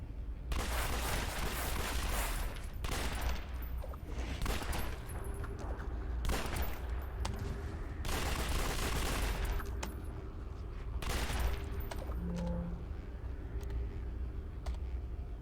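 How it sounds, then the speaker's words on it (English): Tranquilizer gun in City of Heroes fires repeated sharp shots, loud and close, in irregular bursts over a steady rumbling background, with a few brief tonal game effects in between. "I'm shooting them with tranquilizer bullets. They just sound like real bullets."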